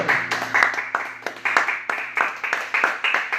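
Congregation clapping in rhythmic praise to the Lord at a church service, steady repeated hand claps over a low sustained tone, fairly close and full.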